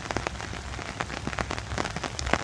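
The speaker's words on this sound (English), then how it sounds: "and it's raining." Rain falling on a Friday morning beside a river, pattering steadily and close on an umbrella and the ground, with scattered louder drops standing out against a continuous wash.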